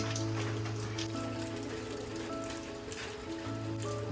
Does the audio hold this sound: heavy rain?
yes